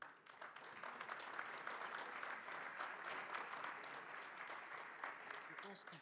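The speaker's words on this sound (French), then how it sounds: "vous méritez les applaudissements tous les deux" Applause from an audience at the Techinnov 2020 challenges award ceremony, with dense, even clapping that runs steadily for several seconds at a moderate distance.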